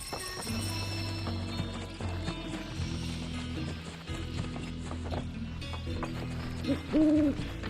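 A bird in Final Fantasy VII Rebirth gives a short hooting call near the end, heard over steady game music and clopping hoofbeats.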